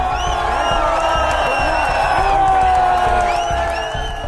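A large, dense protest crowd packed near Jantar Mantar, a continuous loud roar of voices with scattered shouts, whoops and cheering, close and unbroken throughout.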